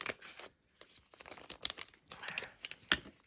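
A small metal hole punch, the 5/16-inch size, is driven into a material, giving a few sharp crunching, tearing snaps in short bursts with brief pauses between them.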